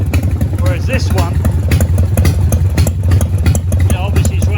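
A 1990 Harley-Davidson FXST Softail Springer motorcycle engine idles steadily with a loud, uneven low rumble and mechanical clatter, close by, while someone talks over it.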